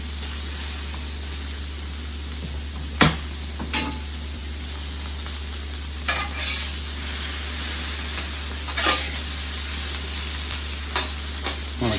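Peppers and onions for fajitas sizzle steadily in a hot pan, a continuous frying hiss broken by a few sharp stirring scrapes, close and fairly loud, with no talk.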